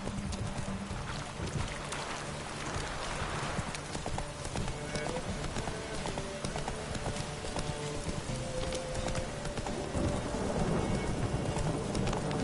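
Horse hooves gallop in a steady clip-clop rhythm while riding in The Witcher 3, mixed with rain and distant thunder from the game world, continuous for the whole stretch and growing slightly louder near the end.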